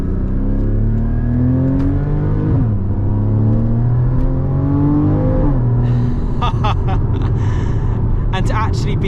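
A Porsche 981 Cayman GTS accelerates hard on the road at full throttle, its engine note climbing steadily through the gears with brief dips at the shifts, loud and close from inside the car, with some rattling and clicks near the end.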